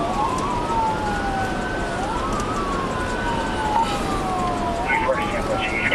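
A police siren wails in repeated rising and falling sweeps over a constant road roar during a pursuit, with faint radio voices near the end.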